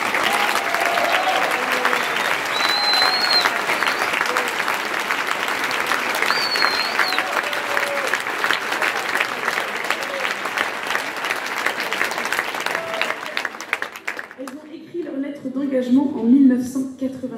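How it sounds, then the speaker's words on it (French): A large television studio audience claps loudly and steadily for a celebration, dense and sustained, then cuts off near the end as a voice speaks over the quiet. "un tonnerre d'applaudissements pour Chantal Eto'o et ma maman, Henriette Ma"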